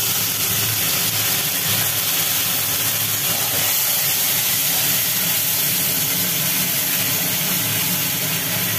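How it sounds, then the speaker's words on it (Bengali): A kitchen mixer grinder runs steadily and loudly, whirring nonstop as it blends ginger, garlic, onion and tomato into a paste, with no pause or speech. "আদা, রসুন, পেঁয়াজ, টমেটো একসঙ্গে বাটা মিক্সিতে।"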